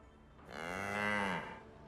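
An ox in Baldur's Gate 3 lets out a single drawn-out moo that swells and fades over about a second, clear against a soft game ambience, with no one talking.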